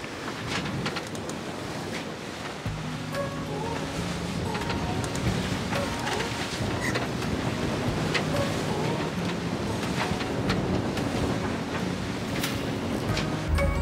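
A sailboat moves under sail in wind and waves, with continuous rushing water and wind noise that steadies into a dense wash after a few seconds, fairly quiet and without voices.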